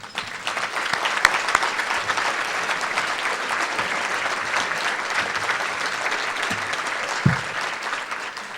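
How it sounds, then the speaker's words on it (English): A large audience at a county State of the County address applauds county employees, sustained dense clapping at steady volume throughout, with a few sharper claps standing out nearby. "Let's give them a round of applause."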